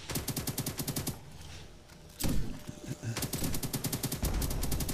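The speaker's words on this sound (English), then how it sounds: "Well, I'm still firing my AK." An AK rifle fires in rapid automatic bursts in the Roblox zombie game Zombie Mayhem, loud and close, with a short lull and an impact boom between volleys.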